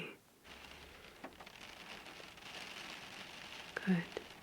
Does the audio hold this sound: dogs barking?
no